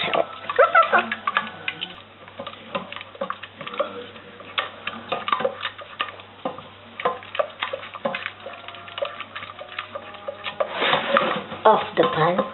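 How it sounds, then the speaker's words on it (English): Scrambled eggs being cooked in a pan, with a utensil scraping and tapping against the pan steadily over a soft background hiss, and someone speaking at times over it. "I'm gonna make him scrambled eggs like in the hotel"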